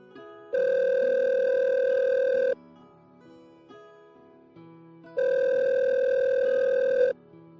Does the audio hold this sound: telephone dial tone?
yes